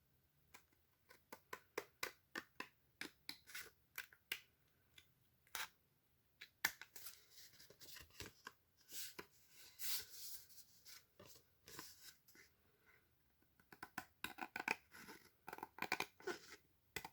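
Paper overhang is trimmed from a handmade DIY album page, with quiet, close snips and soft rustling of paper in irregular bursts, some rapid and clustered, others spaced apart, with no talk.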